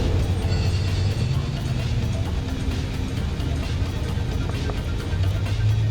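Full-size Overland and SRT SUVs launch in a drag race, a dense loud engine rumble and roar held steady close by with vehicle noise throughout.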